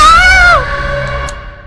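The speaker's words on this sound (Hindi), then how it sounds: "इतना जोर से क्यों चिल्लाए?" A woman's loud, sustained scream rises and holds for about half a second, then breaks off, leaving low background hum in a domestic scene as the lights come back on.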